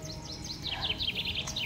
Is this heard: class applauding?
no